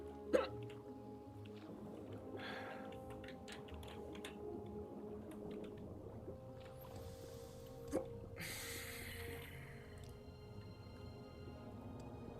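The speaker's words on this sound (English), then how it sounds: "Hiccups" Hiccups in The Elder Scrolls III: Morrowind, Tribunal, a few sharp isolated hiccup bursts spaced seconds apart over quiet game ambience and faint music.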